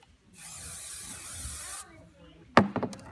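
A steady hiss of an aerosol hair spray sprays for about a second and a half, then stops, followed by a brief burst of speech.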